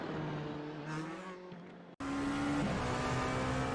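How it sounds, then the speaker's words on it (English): A Dallara prototype race car in a racing video game drones along the Spa circuit, its engine holding a steady tone, with a brief dropout before it resumes louder and shifts pitch. "this Dallara is cruising down so well-known Spa circuit"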